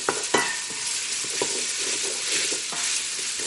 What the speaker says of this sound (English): As you can see, the fat's starting to render out of this bacon.